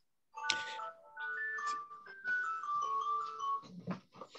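A mobile phone ringtone plays on its own indoors: a bright electronic melody of stepped tones running for several seconds, moderately loud and close, with no speech over it.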